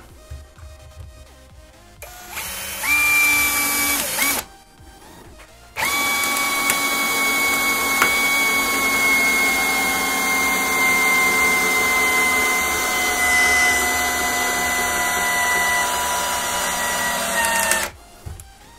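Makita DHP481 cordless drill driver sinking a 20 cm screw: a loud, steady high-pitched motor whine that runs briefly, pauses, then drives continuously for about twelve seconds before stopping, with no talking.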